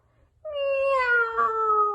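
A cat with a torn ear howls against a window, one sudden, long, loud wailing meow that starts after a short silence and slowly falls in pitch.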